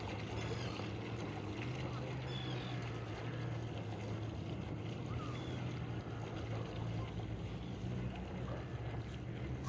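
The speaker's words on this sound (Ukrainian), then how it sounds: "Наближається до точки, за метр до неї відключаються двигунчики і корабель автоматично допливає до останній метр" A small remote-controlled fishing bait boat motors across open water toward a set point, a steady low hum under continuous wind and water noise, with no talking.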